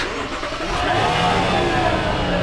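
A Lexus GX460 SUV with 131,000 miles starts by push button and runs with a steady, fairly loud mid-pitched hum that rises slightly as it settles.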